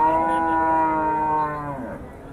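A cow at a village cattle market, among Jersey cows, lets out one long, loud moo that rises and then falls away, close by, with faint market noise behind it.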